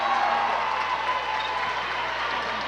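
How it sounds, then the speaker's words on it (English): Crowd applause fills a basketball gym during a women's college game, a steady broad wash of clapping that holds level throughout without clear pauses. "So the crowd applauds her on her senior day."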